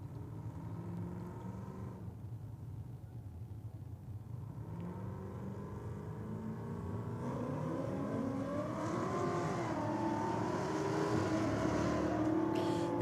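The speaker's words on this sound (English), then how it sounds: "The Nitrous assisted Caprice taking on the earlier Falcon in the Rocket lane." Nitrous-assisted Holden Caprice drag racing a Ford Falcon, engines rumbling and then revving hard as the cars launch, the roar rising and sweeping in pitch toward the end.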